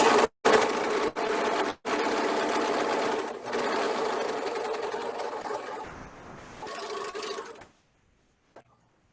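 A serger stitches elastic onto a fabric face mask, its motor whirring in a steady, loud, fast drone with a few brief stops before it winds down and falls silent near the end.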